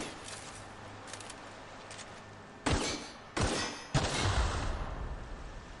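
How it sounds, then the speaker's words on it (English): Pistol fired at a mine inside a cave in the video game Destroyer of Halcyon: sharp separate gunshots, a few faint ones early, then three louder cracks in quick succession, with a rumbling tail after the last. "Why did I have to shoot a mine multiple times? Is that how shit my pistol is?"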